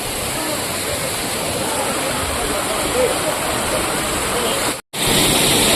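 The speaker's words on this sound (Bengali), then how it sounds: "সত্যি এই যে ঝর্ণার আওয়াজ, জলের শীতলতা," A waterfall at a tourist spot in Darjeeling roars as a steady, dense rush of falling water, loud and close throughout, broken only by a brief cut near the end.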